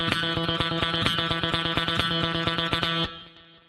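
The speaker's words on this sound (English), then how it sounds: "30-second notes are 8 notes for every one beat" Distorted electric guitar rattles off rapid thirty-second notes, eight per beat, a dense even stream of picked attacks with effects for about three seconds before cutting off and decaying.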